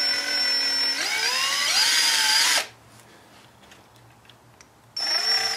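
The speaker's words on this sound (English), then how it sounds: "we can drill the rest of the holes without worrying about the speaker moving" A power drill whirs up loudly drilling holes for a front speaker bracket on a 2007-13 Chevrolet Silverado 2500HD, runs for a couple of seconds, stops, then starts again after a quiet pause with faint hum.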